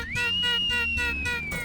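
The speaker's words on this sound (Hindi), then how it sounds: "आप हमको देख के सीटी मार रहे हैं" A person whistles one sustained, rising then slowly falling tone, close and fairly clear, with no talk over it.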